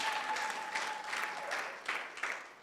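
A church congregation claps together in a sustained, even burst of applause that fills the room without any talking.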